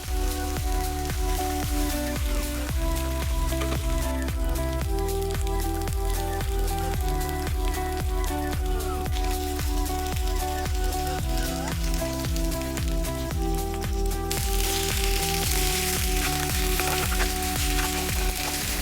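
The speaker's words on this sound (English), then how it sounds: "The oil is hot and now it's time to fry the fish, making sure that both the sides are just light golden." Pieces of fish fry in hot oil for Odia dahi maccha, a continuous crackling sizzle that runs steadily beneath music.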